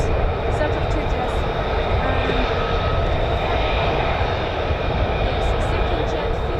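US Air Force F-15 and F-35 fighter jets of the 48th Fighter Wing at RAF Lakenheath send out a loud, steady, broad engine roar throughout, with faint voices underneath.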